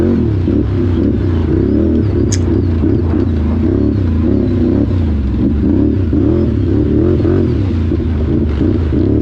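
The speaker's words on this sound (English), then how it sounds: "I will edit the engine noise up for this because there's not much going on." A loud off-road 4x4 utility vehicle engine revs and drones close by during a race, its pitch rising and falling continuously with some rattling and wind rush.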